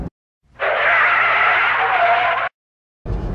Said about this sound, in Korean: 이 직선로에서 터지는 폭발적으로 올리는 소리, 엔진 사운드